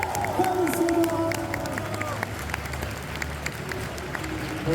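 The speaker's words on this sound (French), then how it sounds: "Messieurs, dames, applaudissez Andy Serkis, Calisena." Conference audience applauding and cheering for a guest, many hands clapping amid crowd murmur, with voices and some speech mixed in.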